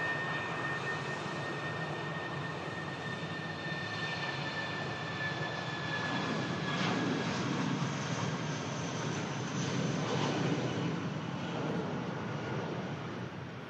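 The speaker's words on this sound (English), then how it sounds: "Gear goes up on the Airbus A319 airframe." An Airbus A319 jet climbs out after takeoff, a steady, distant broadband roar with faint high whining tones that swells slightly midway and holds throughout, with no voices.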